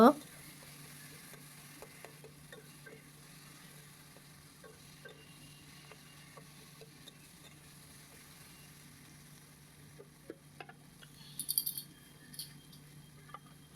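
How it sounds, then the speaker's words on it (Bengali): Tomato frying in a pan while being stirred, a faint steady sizzle with scattered soft scraping clicks and a brief louder clatter of utensil on pan near the end. "টমেটোটা দিয়ে ভালো করে ভেজে নেড়ে নেড়ে চেড়ে ভেজে নেব"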